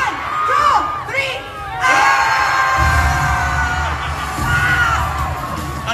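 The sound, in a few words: rally crowd shouting together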